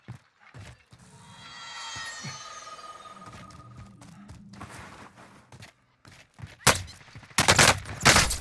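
Video game gunfire while the squad heads for a safe zone: sharp bursts of shots close by, clustered late in the clip, after a stretch of softer electronic tones and mechanical sounds.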